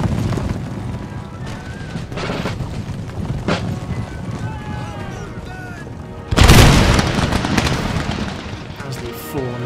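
Massed musket volleys and booming explosions in an Empire: Total War battle, a rumbling barrage that swells into a loud, dense burst of gunfire about two-thirds through, with shouted game voices and music underneath.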